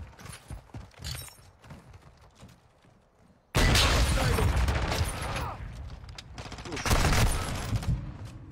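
Warzone 2 gameplay with scattered gunshots, then a sudden loud sustained burst of heavy fire and explosion noise, with players talking throughout.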